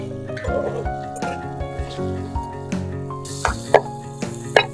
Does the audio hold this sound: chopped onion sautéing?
yes